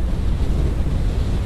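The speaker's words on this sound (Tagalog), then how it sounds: "Malakas ng hangin, aba grabe." Loud, steady wind buffets the microphone with a dense low roar, no pauses, close and constant.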